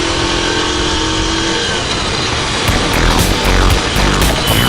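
Yamaha Crux motorcycle engine running loudly nearby, a steady rough mid-pitched drone that swells into revving toward the end, with no speech.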